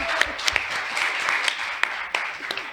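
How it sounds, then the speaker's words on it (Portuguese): Audience at a cultural event applauding Jennifer, a scattered, moderately loud clapping with a few sharper individual claps standing out over the crowd. "uma salva de palmas para Jennifer"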